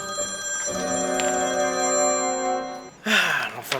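A phone ringing with an incoming call, a bright electronic ringtone of sustained repeating tones that plays for about three seconds, then cuts off into a short burst of noise.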